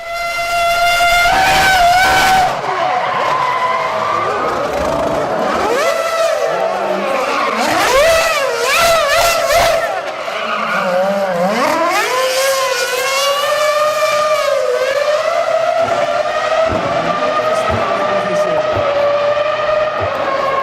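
A high-revving Honda racing car engine screams loudly and close, rising and falling sharply through gear changes with tyre squeal mixed in, continuous throughout.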